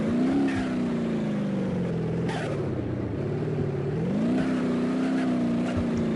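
Vapid Sadler truck in BeamNG.drive, its engine droning steadily and rising and falling in pitch as it limps along slowly, loud and continuous throughout.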